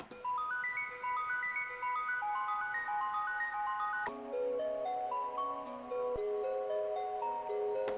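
Arpeggiated synth melody for a chill beat, heard dry before a half-speed effect: bright, rapid rising note patterns over soft chords, shifting to a lower register halfway through, steady and clear without talk.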